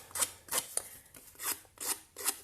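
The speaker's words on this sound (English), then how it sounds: "By ruffle I mean scrape some of the fibres away to give it a fluffy look." Scissor blades scrape along paper card edges in short rasping strokes to fluff the fibres, about six quick passes at an uneven rhythm, close and fairly quiet with no talking.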